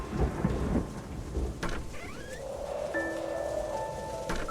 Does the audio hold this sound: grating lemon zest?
no